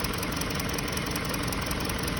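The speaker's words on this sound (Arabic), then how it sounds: "اليوم عندنا سلندر 2 في مسفير" A 2020 Hyundai Sonata engine idles with a cylinder 2 misfire, a steady, close, loud chugging with a fast, uneven pulsing knock throughout.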